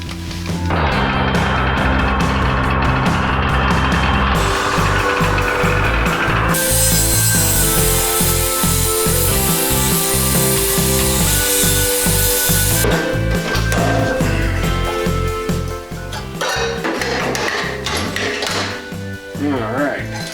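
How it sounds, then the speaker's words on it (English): Loud, continuous power grinding on a VW Bus body, working folded metal off near the dogleg, with a harsh broadband burst in the middle and steady mechanical rasping before and after. "I'm gonna try to just grind this off,"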